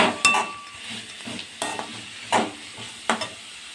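Two spoonfuls of whole coriander seeds hit hot oil in a pan with dried red chillies and bay leaf, giving a soft steady sizzle broken by several sharp scraping stirs of a spoon.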